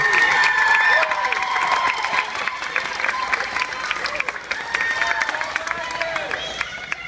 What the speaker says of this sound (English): Give them one more round of applause as they exit the stage.